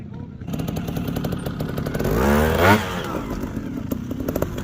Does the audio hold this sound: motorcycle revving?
yes